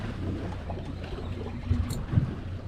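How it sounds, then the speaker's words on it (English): Wind gusting over open water around a small fishing boat, a soft steady rush with low buffeting against the microphone and a couple of brief louder thumps near the end. "Thankfully, that wind is calming down."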